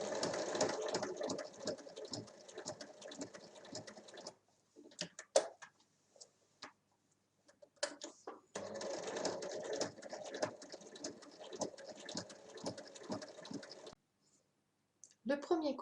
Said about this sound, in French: maintenant je vais venir la coudre